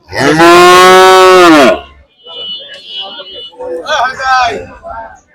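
A cow at a busy cattle market lets out one long, loud moo up close, followed by a crowd of people talking and haggling in the background.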